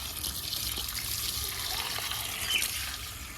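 Water poured onto potted plants outdoors, a continuous soft splashing trickle at moderate distance, steady throughout with no voices.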